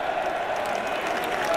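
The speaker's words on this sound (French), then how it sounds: "applaudissez-le." A crowd at a French presidential campaign rally at the Trocadéro in Paris claps in a dense, steady roar of applause throughout, with a voice faintly mixed in.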